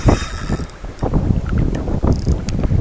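South wind gusting and buffeting over a small fishing boat out on the water, a rough steady whoosh of wind noise across the microphone with brief knocks and clatters, no talking.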